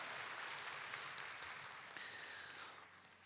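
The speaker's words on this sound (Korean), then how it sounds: "하나님께 영광의 박수 올려드립니다." A church congregation at a Sunday morning service claps in sustained applause, a dense, fairly faint wash of hand claps heard from a distance that slowly tapers off.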